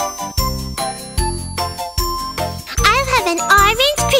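Ice cream truck bells ring in a bright, repeating rhythmic jingle within a cartoon children's song, with a sung voice carrying the melody over the chiming.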